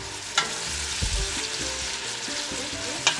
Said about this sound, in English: So we're gonna start by sauteing the sliced onions.